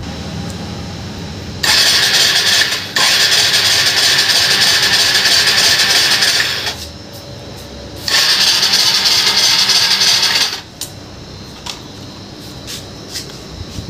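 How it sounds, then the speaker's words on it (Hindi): Second-hand motorcycle being started: two bursts of loud, close starter and engine noise of several seconds each, separated by a quieter gap, then fading to near silence with a few brief clicks. "अब अपनी बाइक को स्टार्ट करके देखते हैं यार"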